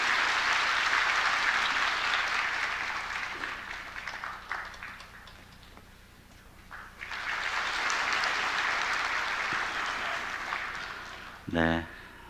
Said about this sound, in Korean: 우리 아이를 박수로 축복합니다.